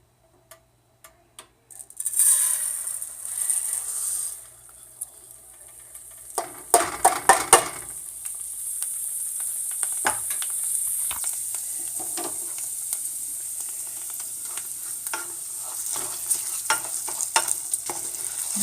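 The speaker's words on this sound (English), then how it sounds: "I'm going to go ahead and add the 1 cup of rice into the oil." A cup of rice hits hot oil with a sudden bright sizzle, then fries steadily as a utensil scrapes and clicks through the pan in irregular stirring strokes, close and alone.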